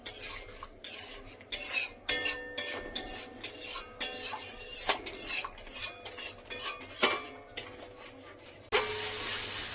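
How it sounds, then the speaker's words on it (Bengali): Spice masala for a yogurt pointed-gourd curry is stirred and scraped in a pan after a splash of water, with rhythmic metal-on-pan strokes over a soft sizzle, close and fairly loud. "সুন্দর করে মশলাটা কষিয়ে নেব।"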